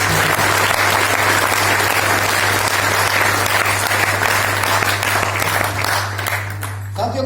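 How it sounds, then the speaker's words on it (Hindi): Seminar audience in Jind breaking into loud, sustained applause, a dense continuous roar of many hands clapping that holds steady and then tapers near the end, with a low electrical hum beneath. "मैं चाहूंगा कि सर के लिए जोरदार तालियां दें।"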